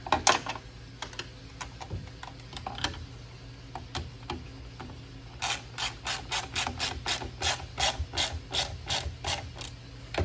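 Ratchet wrench tightening bolts on the back rack of a Venom Grizzly ATV, scattered clicks at first, then a fast, regular run of loud close ratcheting strokes.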